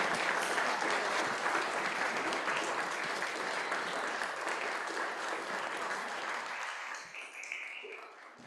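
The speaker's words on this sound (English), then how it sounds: "Let's give them a round of applause" Congregation applauding during a church worship service, a steady, dense clapping from a full room that holds for several seconds and then thins and fades near the end.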